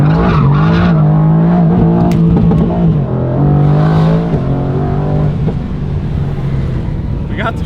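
Mercedes-AMG with an aftermarket exhaust driven with traction control off and drifting, a loud steady engine drone with shifting pitch and brief tyre noise, heard from inside the car over the speaker's voice.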